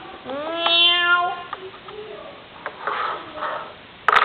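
A drawn-out meow with a rising and falling pitch, followed by quieter, scattered rustling and a soft sniff-like noise.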